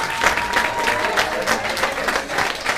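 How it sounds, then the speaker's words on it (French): Steady, loud clapping from an audience applauding school students at an event, continuous and dense throughout with a faint murmur of voices underneath. "je pense que nous aussi on peut vous applaudir"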